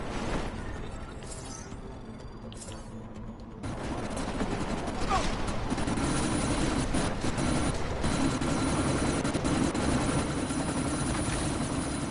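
A helicopter in the video game Deus Ex Mankind Divided, a steady loud rotor roar that swells after a quieter start, blended with sandstorm wind and bursts of distant gunfire.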